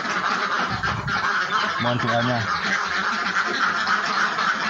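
Young ducks and geese in a duck egg-farm pen honk and quack continuously, close and loud, with someone speaking briefly over the flock.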